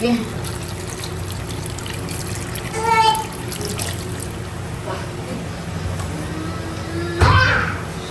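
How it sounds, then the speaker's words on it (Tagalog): A glass of water goes into a cooking pot while a Filipino home cook makes Spanish-style bangus sardines, a brief splash under steady kitchen noise, with a louder pour or clatter near the end. "Lagyan din po natin ng isang basong tubig."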